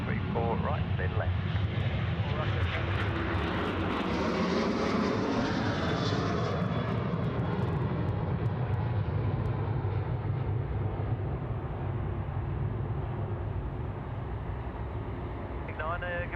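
An airliner landing on runway 34 right at Sydney Airport gives a loud, sustained jet engine roar that swells and then slowly fades, with no voices heard.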